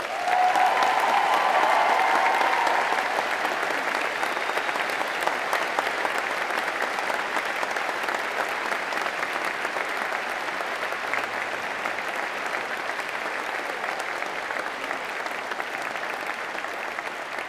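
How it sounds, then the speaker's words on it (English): Sustained applause from an audience fills a hall at a veterinary and veterinary nursing graduation ceremony, dense steady clapping that stays fairly loud and gradually eases over its length with no speech. "I think it would be a big round of applause for them too."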